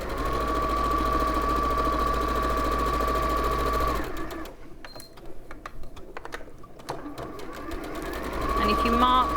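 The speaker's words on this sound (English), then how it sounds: "We're simply going to sew along those 2 outer lines." Sewing machine stitching quilt squares along marked lines, a steady mechanical whir for several seconds that pauses briefly and then resumes, with a person talking over it.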